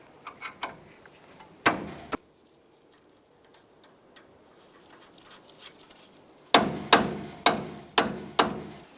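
A hammer drives the outer tie rod end into the steering knuckle of a 2004-2012 Chevy Colorado: two sharp knocks, a pause, then six evenly spaced metallic blows, close and loud in a quiet workshop.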